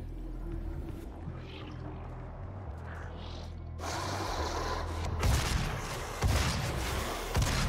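Heavy-assault-rifle gunfire in the video game Doom: dense, loud bursts of shots crowd the second half, alternating with booming blasts over a low rumbling game soundtrack.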